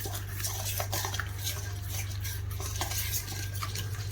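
Soy sauce and olive oil marinade for pork ribs being stirred in a bowl, with soft repeated scraping and clinking of a utensil against the dish over a steady low hum.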